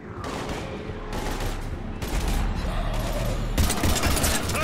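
Dense gunfire from a zombie firefight in the Mass Effect 3 video game, continuous rapid bursts layered throughout and growing louder toward the end.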